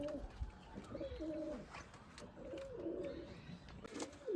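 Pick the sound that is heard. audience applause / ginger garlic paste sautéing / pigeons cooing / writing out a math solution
pigeons cooing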